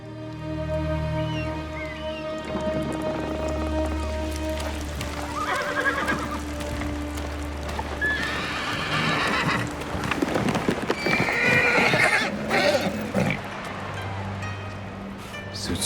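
Horse neighing and hooves clip-clopping in rain in the video game Ghost of Tsushima; low whinnies and snorts sound close over a steady hiss of rain, with hoof steps and splashes building near the end.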